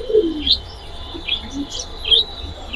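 Racer pigeons in a coop give a few short chirping calls and soft coos close by, in brief bursts over a low background hum.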